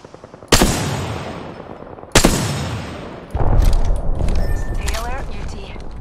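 Gunfire in the video game Apex Legends: two sharp loud shots a couple of seconds apart, then a denser burst of firing with mechanical clatter, close and dominant.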